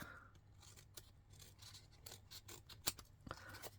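Several crisp snips of scissors cutting, spaced irregularly and fairly close, with a soft background hum underneath.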